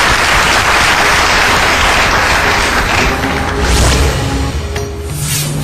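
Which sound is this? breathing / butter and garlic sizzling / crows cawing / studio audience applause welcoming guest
studio audience applause welcoming guest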